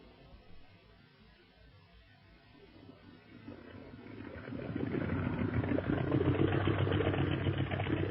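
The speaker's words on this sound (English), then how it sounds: "Gee, this is a swell boat, Li Ying." An engine rumbles, quiet at first and then swelling to a loud, steady roar with deep low-end drone, like a powerful boat motor running at speed.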